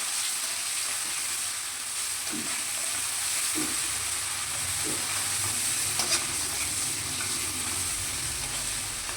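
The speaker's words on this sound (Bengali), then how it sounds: "এইভাবে রসুনটাকে ভালো করে ভেজে নিতে হবে" Steady close sizzling of garlic frying in a pan for mutton curry, with a few soft stirring clinks against the hiss and no talking.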